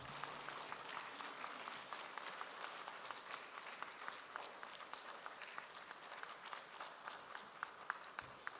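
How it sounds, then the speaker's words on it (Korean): Steady applause from a church congregation welcoming a pastor, dense clapping sustained throughout with no voices over it. "우리 박수로 모시겠습니다."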